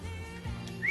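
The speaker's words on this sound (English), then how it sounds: "that's a key ring, Tom. It whistles." A whistling key ring gives a brief, bright, rising whistle at the end, over low room noise and a soft hum.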